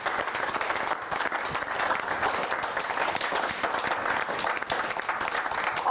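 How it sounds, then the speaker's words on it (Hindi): An audience at a Hindi poetry gathering applauds loudly to welcome the poet Kavita Tiwari. Thick, sustained clapping continues evenly for several seconds. "आइए जोरदार तालियों से स्वागत करते हैं कविता तिवारी"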